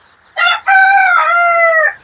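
A rooster on a rooftop chicken farm crows once, loud and close, a harmonic call stretched over nearly two seconds after a brief opening note.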